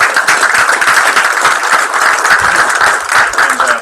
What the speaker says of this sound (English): So again, round of applause to everybody